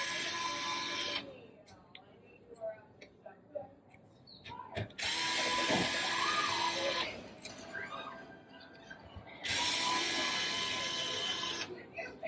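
Ratchet driving TR10 screws out of a circuit board behind a Ford Raptor screen, in three bursts of rapid clicking separated by quieter pauses, with someone talking between them.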